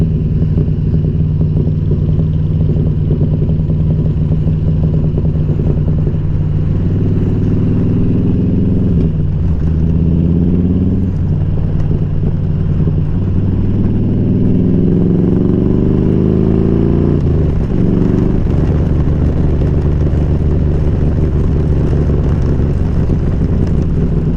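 A Yamaha Raptor engine runs loud and close with exhaust pops, a steady rough idle with revs rising and falling a few times.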